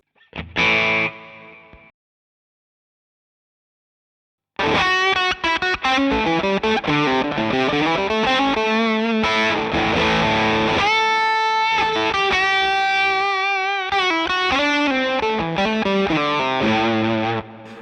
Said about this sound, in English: start to get that more sort of spitty fuzz where it breaks up a little bit